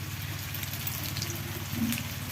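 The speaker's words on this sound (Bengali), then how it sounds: "ভাজা হচ্ছে" Snakehead (shol) fish fries in oil in a kadhai, a steady close sizzle and bubbling hiss over a low hum, with no talk.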